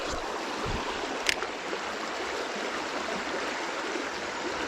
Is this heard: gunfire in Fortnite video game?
no